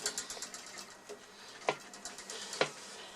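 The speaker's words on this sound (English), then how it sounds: "This is a vacuum tube Geiger counter." An old vacuum tube Geiger counter clicks irregularly at low volume, with a scatter of soft ticks and two sharper, louder pops standing out.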